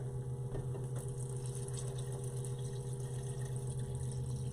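Six cups of water poured into a pot of onions for French onion stock, a steady continuous pouring and gurgling wash with a constant low hum underneath, close and unbroken throughout.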